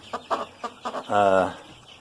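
A chicken gives a few short clucks followed by a longer drawn-out squawk, close and fairly loud.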